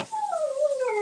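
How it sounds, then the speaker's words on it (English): A dog heard from a distance in a room, giving a single drawn-out whining howl that slides downward in pitch, with no talk over it. "dog's barking"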